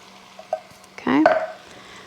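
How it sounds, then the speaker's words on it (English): Ground beef mixed with drained canned corn for tamale pie is stirred in a pan, a brief wet scrape and faint sizzle after a couple of light clinks. "we're gonna just keep mixing this all together"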